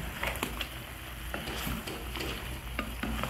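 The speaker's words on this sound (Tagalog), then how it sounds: "Haluin natin." Pork adobo simmering in vinegar in a pan as it is stirred, with a steady soft sizzle under scattered scraping knocks of a utensil against the pan, close and continuous.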